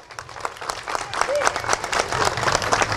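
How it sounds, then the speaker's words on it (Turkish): Crowd applause at the opening of a new butcher shop branch builds quickly from scattered claps into steady clapping, with a brief voice in the mix. "şöyle bir alkış alabilir miyiz efendim?"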